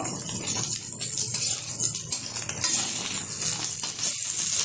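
An egg omelette frying in a kadai is folded over with a spatula, a steady loud hiss of hot oil with soft scraping strokes underneath, close and continuous, with no one speaking.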